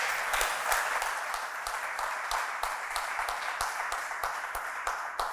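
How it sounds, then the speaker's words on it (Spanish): A church congregation applauds during a sermon, a broad continuous wash of clapping with a few louder rhythmic claps punctuating it at regular intervals. "Dale un aplauso a Papá Dios."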